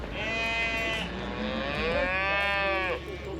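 Cattle bellow at a busy livestock market in Kyrgyzstan where animals are sold and traded. Two long, loud moos stand out close by against a steady background hum of the crowded market.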